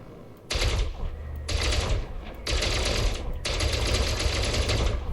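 Rapid bursts of ship weapon fire in the space game Elite: Dangerous, loud and close, coming in four sustained rattling volleys separated by brief gaps.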